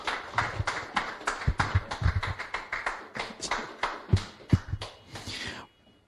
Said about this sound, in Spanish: vamos a recibir con un aplauso fuerte a Checha